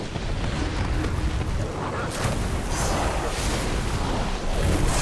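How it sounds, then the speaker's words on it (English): Cannons fire during a hectic World of Warcraft: Legion battle: heavy booming blasts, several in quick succession, set in a dense, loud wash of game noise and effects with no clear break. "Fire the cannons!"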